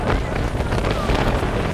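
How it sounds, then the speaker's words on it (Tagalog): Strong wind buffets a microphone at a high lookout over Düsseldorf, Germany, a loud, continuous rumbling roar that fills the whole moment. "Grabe yung hangin, guys."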